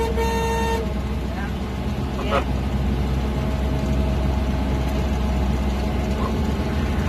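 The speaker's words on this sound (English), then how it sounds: "You like my horn?" A duck boat's horn gives a short toot at the start, then the vehicle's engine keeps up a loud, steady rumble for several seconds, with people talking over it.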